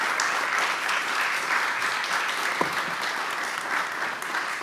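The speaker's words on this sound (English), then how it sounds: "So a big round of applause to everybody." A conference summit crowd gives the panelists a big round of applause, dense continuous clapping from many hands filling the room evenly for several seconds, with one sharper knock partway through.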